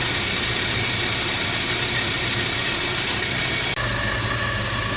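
A steady, loud Volvo 740 engine idling continuously with a rough, even rumble, with a brief dip near the end; no voices.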